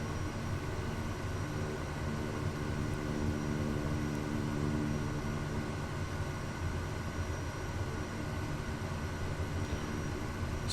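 A Kodiak 100 turboprop idles and taxis at Kingston in Microsoft Flight Simulator 2020, giving a steady, even engine drone with a constant hum and no change in level, with no voices over it.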